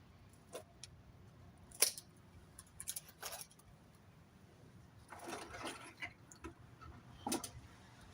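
Pruning shears snip a hawthorn branch on a collected wild bonsai tree outdoors, a few close, crisp cuts and clicks scattered across a quiet background.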